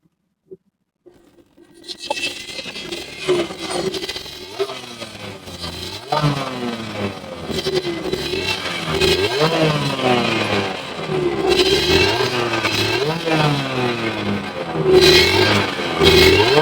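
A Suzuki X-4 motorcycle engine starts after a moment of silence and then revs up and down repeatedly, its loud rising and falling pitch sweeps carrying on steadily close by with some mechanical clatter and no talk.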